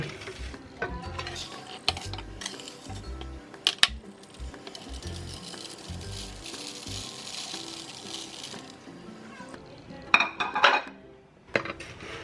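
Toasted rice is stirred by hand into fermented shrimp paste in a bowl, giving irregular scraping, clinking and rustling strokes with a few sharper knocks near the end.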